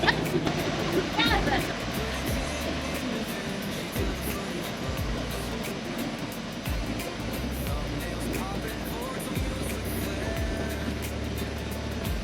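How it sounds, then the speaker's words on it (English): Rough sea on an island-hopping boat ride off the Philippines, with choppy waves slapping and churning under a steady roar of wind and engine noise that fills the whole stretch. "The waves have turned a bit rougher."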